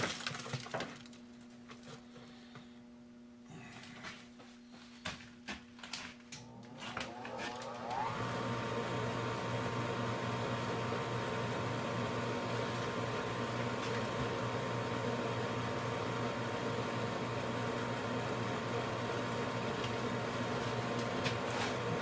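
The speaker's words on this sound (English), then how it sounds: "I'm going to put the friggin' suck pump on because I'm friggin' choking here" A suction pump in a lathe workshop starts up after some clattering, then hums and whooshes steadily and fairly loudly for the rest of the time, close by.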